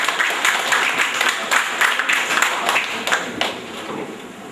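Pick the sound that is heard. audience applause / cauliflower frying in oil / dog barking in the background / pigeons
audience applause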